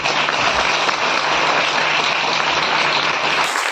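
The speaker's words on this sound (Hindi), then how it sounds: "ताली बजाइए" Steady, dense applause from a large audience at a Hindi Christian sermon, clapping continuously and loudly for several seconds with no speech over it.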